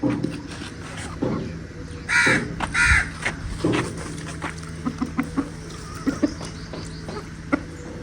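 Chickens cluck and squawk nearby in short bursts, with a couple of louder calls standing out against a steady low hum and scattered clatter.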